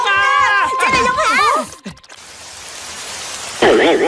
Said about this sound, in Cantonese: 仲未停雨